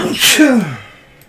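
A single sharp sneeze, close and loud, trailing off quickly into quiet.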